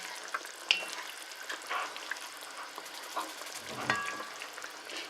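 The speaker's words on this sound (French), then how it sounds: "n'hésitez pas à tourner, à bien mélanger, pour que voilà, votre sauce soit plus épaissie" Colombo chicken sauce simmering in a pan while being stirred: soft bubbling and sizzle with irregular scraping strokes and small splashy bursts, fairly close and quiet.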